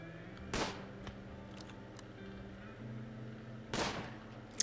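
Two sharp gunshots in RimWorld as a colonist fires at a squirrel, spaced a few seconds apart over a quiet steady background hum, with a faint click near the end.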